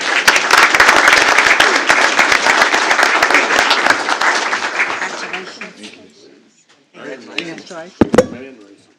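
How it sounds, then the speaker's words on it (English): A school board meeting audience applauds three students, loud close clapping that tapers off into quiet, followed by a voice and a sharp knock. "Give these three a big round of applause as well."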